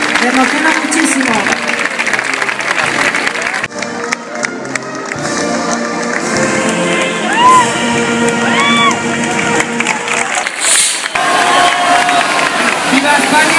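Loud festival crowd at the town pregón in Alcorcón, cheering, whooping and applauding for the flag, with continuous shouts and voices over dense clapping throughout.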